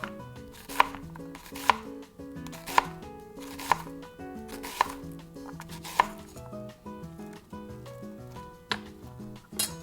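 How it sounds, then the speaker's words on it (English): An onion being sliced with a knife on a cutting board: about ten crisp, evenly spaced chops, close and clear, with no talking. "Slice the onion as well."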